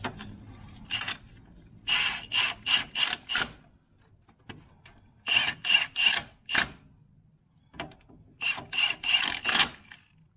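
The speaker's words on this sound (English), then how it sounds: "Screw them up, just take the torque down on here." A hand ratchet tightens the bolts on a Range Rover Classic CV joint, giving three distinct bursts of quick, sharp, close clicking separated by short quiet gaps.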